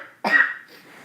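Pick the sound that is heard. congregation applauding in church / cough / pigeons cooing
cough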